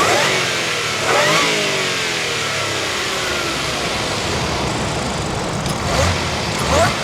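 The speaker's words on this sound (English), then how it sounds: "I am not gonna lie, you could really hear that supercharger." A supercharged Audi engine revs hard and roars in dynamic mode, pulling up through the gears with rising supercharger whines, loud and close, with a couple of sharp surges near the end.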